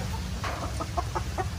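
Native chickens in a coop on a small farm in General Santos City give a quick run of about six soft, close clucks over a low steady background hum.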